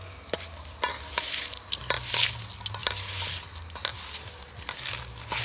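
Green chillies are tossed and mixed with spices and asafoetida for pickle, giving wet squelching and soft rustling in an uneven rhythm. The handling is close and moderately loud, with no talk.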